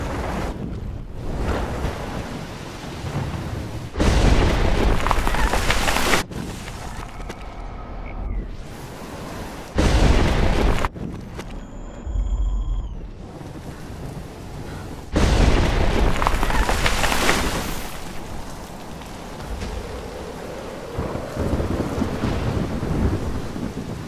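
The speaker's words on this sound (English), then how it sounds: "I've never seen a storm like this in Oregon." A violent thunderstorm on a small pier in Oregon in the game Life is Strange, loud continuous wind and rain with heavy thunder crashes and surging wave noise throughout.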